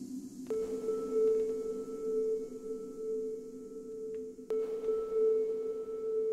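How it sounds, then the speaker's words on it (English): A steady pure tone hums with a long, washy reverb tail, retriggered once midway; a clean electronic sine wave ringing through a spacious synthetic room. "Maybe we can do just a sine wave."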